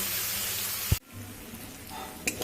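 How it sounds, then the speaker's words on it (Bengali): Masala with chopped tomato and a splash of water frying in a pan for an egg curry, a steady hiss that drops abruptly to a softer simmering sizzle after a clank, with a brief scrape near the end. "টমেটো কুচিটা দিয়ে খুব সুন্দর করে মশলাটা আমি কষিয়ে নেব"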